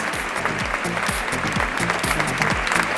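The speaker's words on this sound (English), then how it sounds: "A bigger round of applause for them" Audience applause for a panel of experts after a session on emerging threats in mobile security at a CXO event, a steady dense wash of clapping with low rhythmic thumps underneath throughout.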